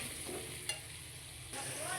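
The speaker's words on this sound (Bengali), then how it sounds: "ভালো করে আলুটা ভেজে নেব" Potato pieces fry in hot oil in a pan while being stirred, a soft continuous sizzle with a couple of brief scraping stirs, faint and without voices.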